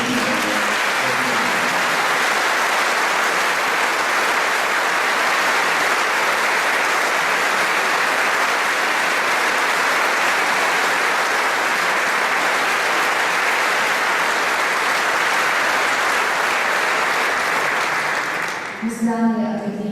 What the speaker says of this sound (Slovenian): Še enkrat mu lahko pošljemo ogromen aplavz in srčni.